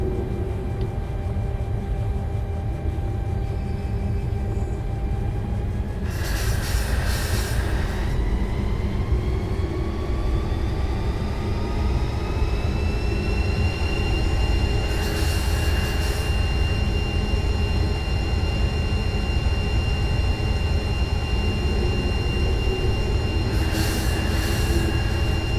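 An EMD F45 diesel locomotive in Train Simulator 2021 rolls downhill with dynamic braking: a steady low engine drone and broad rumble fill the run, with rising tonal whines and periodic bursts of hiss.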